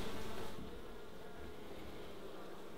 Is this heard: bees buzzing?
yes